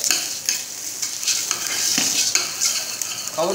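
Buckwheat groats roasting in oil in a pan for buckwheat pilaf, with a steady bright sizzle and repeated scraping strokes of a spoon stirring the grains, close and alone without voices.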